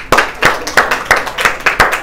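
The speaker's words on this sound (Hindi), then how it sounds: "ताली बजाओ बे यार" Rhythmic hand clapping in a classroom, about seven sharp, evenly spaced claps, close and loud with no talk over them.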